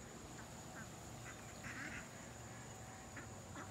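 Wild ducks quack now and then beside a stream, a few short scattered calls close by over a steady rushing outdoor background of running water.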